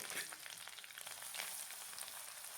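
Freshly grated coconut and spices frying in a pan for a vegetarian banana-flower curry give a soft, continuous sizzle at low volume, with faint stirring textures and no voices.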